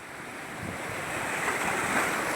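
Sea water surges in over the path to a Shiva cave shrine, a steady, rushing wash of surf that swells slightly, mixed with wind buffeting the microphone and no voices.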